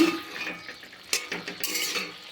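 Potatoes and beans simmering in a covered pot over a low gas flame get stirred with a metal spoon: close, irregular scrapes and clinks against the pot, with one sharp knock partway through and a louder scraping stretch near the end.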